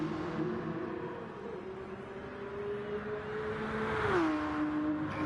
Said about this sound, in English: he's revving